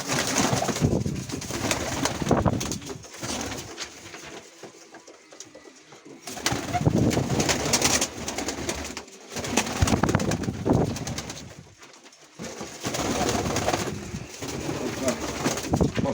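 Domestic pigeons in a Mykolaiv region loft coo repeatedly, close and clear, in bursts with short pauses between, with occasional wing flutters and faint background voices.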